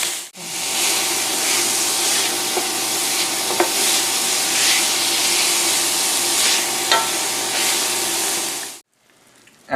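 Meat browning in a pan alongside onions and carrots gives a steady, loud sizzle and hiss that runs unbroken for about nine seconds, with a few brief stir clicks, then cuts off abruptly.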